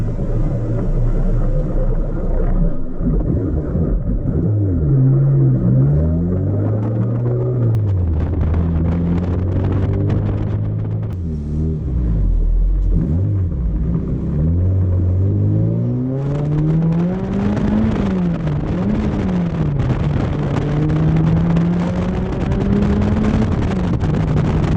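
A Honda K24 VTEC engine roars loudly through its induction and exhaust while driving, its pitch repeatedly climbing and dropping through gear changes under a constant rumble.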